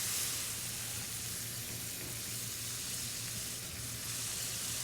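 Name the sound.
dry Chablis white wine added to sizzling pan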